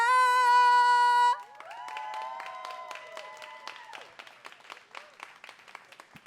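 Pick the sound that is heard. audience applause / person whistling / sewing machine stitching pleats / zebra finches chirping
audience applause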